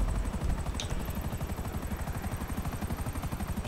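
Helicopter in the video game GTA 5, a steady rapid rotor thump that beats evenly throughout, loud and close, with a brief high chirp near the start and no talk.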